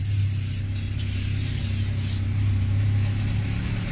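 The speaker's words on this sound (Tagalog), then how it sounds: "Ganyan lang ang pag-spray niya" Tire black cleaner hisses steadily from an aerosol can onto a motorcycle tire, a continuous close spray with a low hum running underneath.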